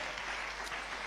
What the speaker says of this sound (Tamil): நல்ல ஒரு பெரிய கரகோஷம் கொடுக்கலாமே.